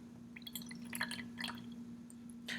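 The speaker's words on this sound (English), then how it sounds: "So I'm going to pour the water in." Water poured into a lab beaker, heard as faint bursts of trickling and dripping over a steady low hum.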